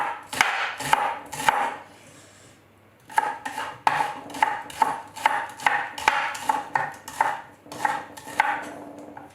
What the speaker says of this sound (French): Je vais juste couper mes échalotes en petites rondelles.